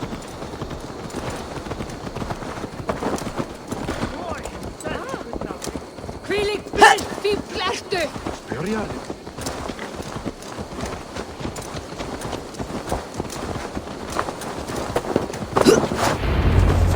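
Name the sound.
horse hooves in the video game Assassin's Creed Valhalla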